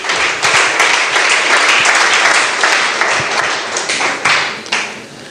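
A church congregation bursts into loud, sustained applause, dense clapping from many hands close and continuous throughout, with scattered voices mixed in.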